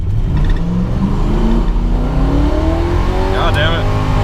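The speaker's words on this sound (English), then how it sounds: "Oh, spinning second." Camaro accelerating hard with its tires spinning, a loud continuous engine roar with rising tones and a brief high squeal near the end, with a voice talking over it.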